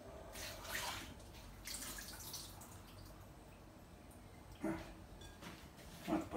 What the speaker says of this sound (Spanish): primero vamos a lavar un poquito la cebolla, enjuagarlo un poco